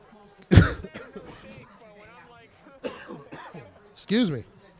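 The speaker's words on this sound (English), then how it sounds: "This cold air whipping in here is kicking up a cough on me here." A sports commentator in a cold, drafty press box at a varsity football game coughs sharply once, then talks quietly before a second hoarse cough and throat-clearing near the end.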